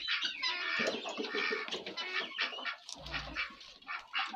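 Several chickens cluck and chatter close by in a village yard in the evening, a busy overlapping flock with a short low thump partway through.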